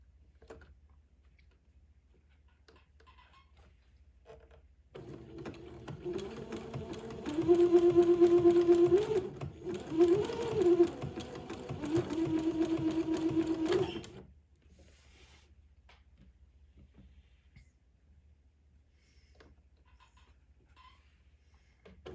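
A sewing machine zigzag-stitching lace to entredeux for a baby daygown, a steady whirring, ticking run of stitches for about nine seconds with a brief hitch midway, quiet room before and after.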